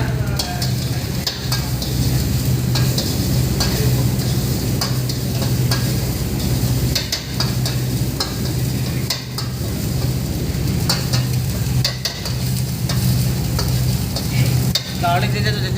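Garlic and ginger fry in a hot pan, giving a continuous loud sizzle with repeated stirring scrapes and light clicks of a utensil against the pan throughout.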